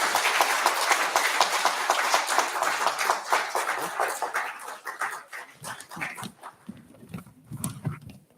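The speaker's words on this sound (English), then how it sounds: "Please give a big round of applause" A big round of applause fills a hall at an industrial-relations conclave in Bhubaneswar during a memento presentation, dense and loud at first, then thinning out into scattered claps and quieter noises.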